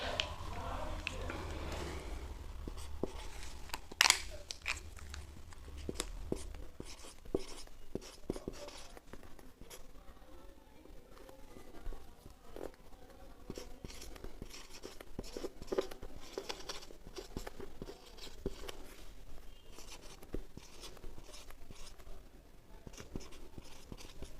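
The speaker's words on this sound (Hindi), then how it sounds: "तो इनकी बातें यहां लिख दे रहे हैं" Pen writing notes on paper or a board during a biology class, with soft scratching strokes and taps at close range, faint and continuous, under a quiet room.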